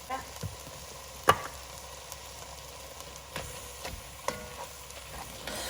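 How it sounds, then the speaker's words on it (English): Ground meat for chili sizzles faintly in a frying pan, with occasional sharp scrapes and taps as a utensil pushes it around; quiet, close, and without talk. "Right now I'm just pushing the meat around because I don't want to break it up too much."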